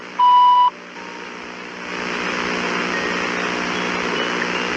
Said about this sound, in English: After the beep, we will return your call.